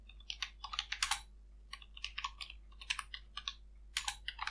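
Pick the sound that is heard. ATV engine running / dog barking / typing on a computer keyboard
typing on a computer keyboard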